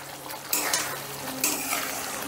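Fried paneer cubes stirred into a spice masala in a pan, with steady oily sizzling and a couple of sharp scraping stirs of a spoon against the pan, close and alone.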